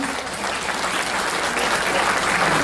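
A crowd at a book launch event claps together in sustained, dense applause, loud and even from start to finish.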